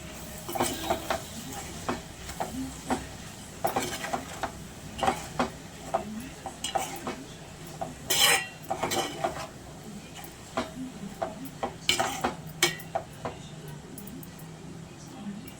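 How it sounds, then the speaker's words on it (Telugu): A spoon stirs a cluster bean curry with salt in a pan, giving repeated scraping clinks and taps in an uneven rhythm over a soft background hiss, fairly close and moderately loud. "అలా కొద్దిగా అంత సాల్ట్ వేసుకుందాం. కలుపుకోవాలి."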